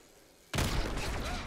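A sudden explosion in Call of Duty: Black Ops 6 gameplay bursts in after a quiet moment, a loud broadband boom whose rumble sustains with debris and crackle through the end.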